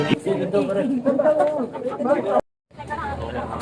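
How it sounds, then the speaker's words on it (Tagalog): Racing pigeons coo and murmur in a soft, continuous chorus nearby on a derby loading day, broken by a brief silence before resuming. "Ang dami pang ibon ni Sir Henry"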